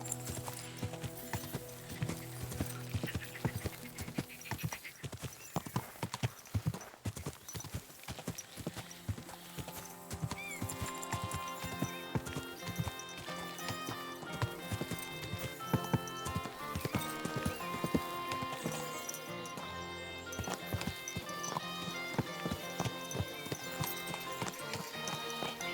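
Horse hooves clip-clop steadily during riding in Kingdom Come Deliverance 2, with occasional neighs, alongside game music and ambient sound.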